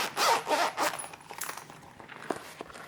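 A zipper is pulled open on a Nintendo Switch carrying case with color-coordinated zippers, giving a few close, rasping strokes that fade into softer handling noise.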